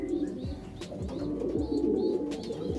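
Pigeons being paired in a coop give soft, repeated throaty coos in a steady rhythm, with a few faint chirps mixed in. The calls are close and moderately quiet, and there is no talking.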